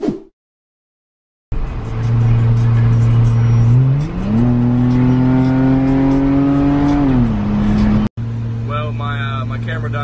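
A BMW E30 engine drones steadily while driving, climbing in pitch as it revs and then easing back down, heard loud and close inside the car, with a brief cut partway through.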